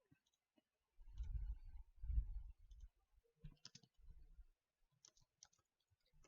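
Computer keyboard typing, faint bursts of clicks with low thumps, irregular and close, with gaps of near silence between clusters.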